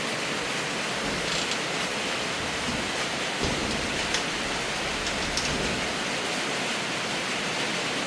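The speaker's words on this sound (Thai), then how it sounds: "ฝนตกพายุข่าวอีกแล้วเนาะมันนี่ก็ได้ฝนตกเหมือนเดิม" Heavy storm rain pours down in a continuous, even hiss, loud and close, with no voices and no clear thunderclaps standing out.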